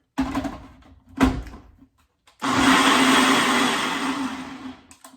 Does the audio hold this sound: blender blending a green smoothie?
yes